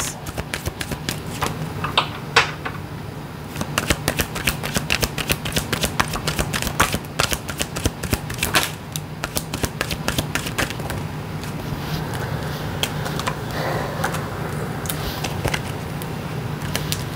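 A tarot deck is shuffled by hand in a long series of riffling, flicking card sounds. The bursts come in quick clusters with brief pauses, close and fairly loud, with no speech.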